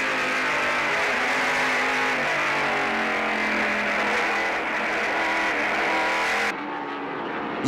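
A 1996 NASCAR stock car roars past on the track, a loud, sustained engine drone that swells and shifts pitch as it passes, then cuts off abruptly to a quieter tail.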